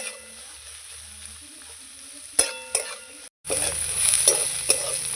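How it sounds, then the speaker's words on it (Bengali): Spices and onion fry in a pan for a spicy mutton curry, a steady sizzle with a few sharp stirring scrapes, a brief cut-out, then louder, denser frying. "এবার কিন্তু আমি ভেজে নেব"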